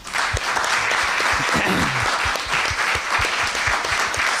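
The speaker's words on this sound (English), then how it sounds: "Can we give them a round of applause?" Steady, full applause from an audience thanking panelists at a sustainability speaker series, a sustained clatter of many hands with a few louder nearby claps and a brief murmur of voices.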